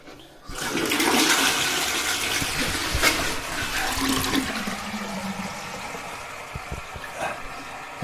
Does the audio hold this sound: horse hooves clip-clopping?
no